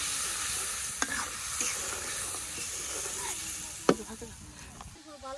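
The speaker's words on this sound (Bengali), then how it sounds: "মশলাটা খুব ভালোভাবে কষে নিই" Spice paste of turmeric, chili, coriander, salt, ginger and cumin sizzling in a pan in a village kitchen, a steady hiss broken by several sharp spoon scrapes and taps against the pan.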